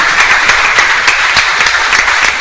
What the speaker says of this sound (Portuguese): dê uma salva de palmas para esse Deus maravilhoso e poderoso